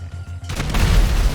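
A new-generation grenade exploding in GTA 5, a sudden loud boom after a brief quiet lead-in, followed by a deep rolling rumble that fills the rest of the moment.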